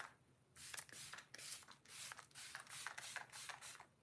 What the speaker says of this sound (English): This is a setting spray.